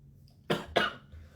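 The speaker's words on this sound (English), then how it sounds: "My cough is just because my saliva went into my windpipe" Two sharp coughs from one person, close and loud, about a quarter second apart, brought on by saliva going down the windpipe, with quiet room tone before and after.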